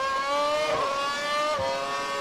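Williams F1 car lapping Hockenheim in the F1 2012 racing game, a high-pitched engine whine rising through the revs with a brief shift dip midway, steady and loud with no talk.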